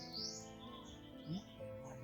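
Faint bird chirps and short tweeting calls, distant and soft, with a low steady background hum.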